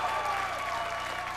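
Studio audience applauding on The Price is Right during the Let 'em Roll game, a brief burst of steady, dense clapping that holds at an even loudness throughout.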